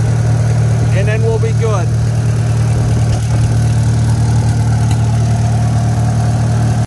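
A Farmall Super M-TA tractor engine idles close by with a steady, loud low rumble and a slight uneven skip, while someone talks briefly over it.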